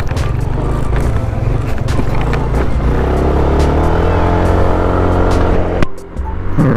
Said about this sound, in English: But it's fun off-roading using a Maxi scoot.